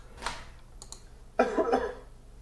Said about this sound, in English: So where's the cough? There's the cough.